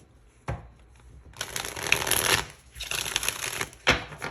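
A matte deck of cards is riffled and bridged a few times, with crisp fluttering bursts separated by short quiet pauses.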